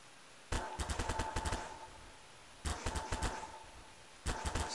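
Tool gun in the game Garry's Mod, used with the rope tool, fires in three quick rapid bursts of mechanical clicks and zaps, each burst about a second long, loud and close with pauses between.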